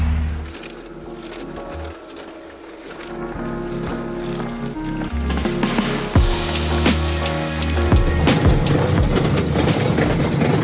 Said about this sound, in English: Just got on the train, which I think is the right train.